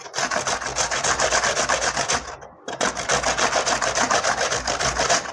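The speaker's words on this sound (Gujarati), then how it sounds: "તો હવે આપણે ડુંગળીને પણ એ જ રીતના છીણી લઈશું." Onion rubbed against a hand grater, a loud, close, rhythmic rasping of quick strokes in two runs split by a brief pause, with no talk.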